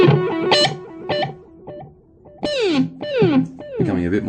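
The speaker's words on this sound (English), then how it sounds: "And standard echo." Electric guitar through a Mooer multi-effect pedal on standard echo delay, a run of picked notes and slides with audible repeats trailing each phrase, loud and close with no talking.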